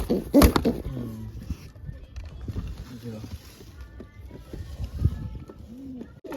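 Pigeons coo in low, rounded phrases repeated at intervals, fairly close, with a sharp knock early on, scattered background noises and occasional talk.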